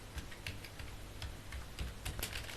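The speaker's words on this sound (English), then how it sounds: "then I will type here about us." Typing on a computer keyboard while working in PowerPoint, a steady run of close, light key clicks with uneven rhythm, no voices over it.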